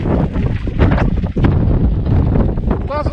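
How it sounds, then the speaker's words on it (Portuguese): Strong wind buffets the microphone during a scooter ride from Fernão Ferro to Cabo Espichel, a loud continuous roar with gusty swells throughout, while voices talk over it. "Muito vento."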